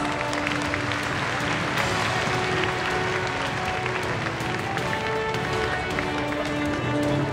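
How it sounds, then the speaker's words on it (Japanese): Loud, sustained crowd applause rings through a kickboxing arena as the bantamweight champion steps into the ring, with dense clapping, cheering and steady background noise throughout. "皆さん盛大な拍手をお願いします。"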